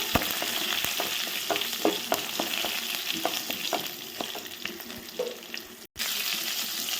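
Garlic with curry leaves and cumin frying in a pan, a steady close sizzle broken by frequent soft clicks of stirring, with no voices.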